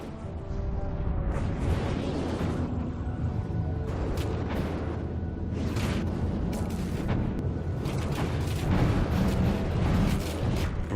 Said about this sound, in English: Barrage of kinetic fragmentation and missiles making short work of it